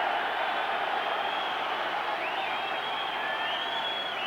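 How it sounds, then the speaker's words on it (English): A Widnes rugby league crowd roars at an offside call during a Warrington versus Widnes semi-final, a steady, dense wash of distant crowd noise with faint whistles and shouts running through it. "Roar from the Widnes crowd"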